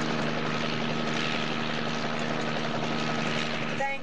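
A helicopter flies close by, its rotor and engine making a steady, dense drone that fills the whole stretch without a break.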